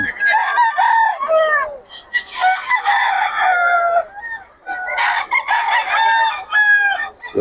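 Roosters crow in Bocaue, several long cock-a-doodle-doo calls close by and loud, in two bursts with clucking between them, no talk.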